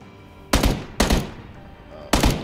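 Three loud, sharp gunshots in PUBG, spaced unevenly over a couple of seconds, each with a short echoing tail and no talk.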